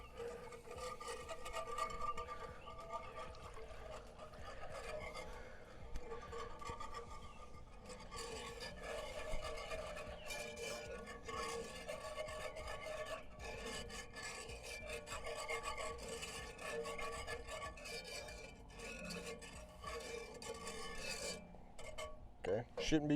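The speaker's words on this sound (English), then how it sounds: "Slowly whisk in that." Beef bone broth being whisked into a skillet for Swedish meatballs, with a steady scraping, rasping rhythm of a metal whisk against the pan, continuous and fairly close, with sizzling underneath.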